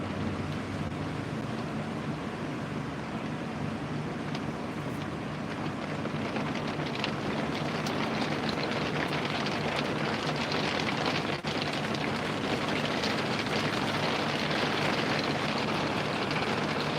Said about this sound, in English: Now the rain droplets sound the same.